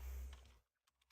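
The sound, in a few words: typing Python code on a computer keyboard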